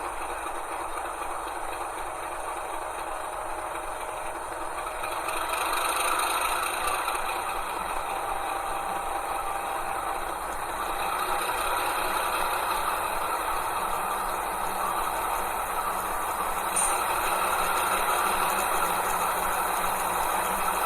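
NSW 48 class model locomotive sound decoder running its diesel engine, a continuous rattling rumble that steps up in intensity partway through as the notches increase, steady and close with no talk.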